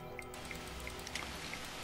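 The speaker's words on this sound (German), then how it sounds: "Ich mach mal kurz hier hinten ein bisschen Regen an." Rain falls in The Universim city-building game, a soft steady patter of drops with a few distinct splashes standing out, faint and without talk.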